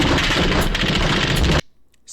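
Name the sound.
Barrett rifle gunfire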